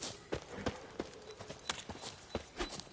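Horse hooves clip-clopping at a steady walking rhythm in The Witcher 3, a string of distinct, fairly soft hoofbeats over a faint background, with no talk.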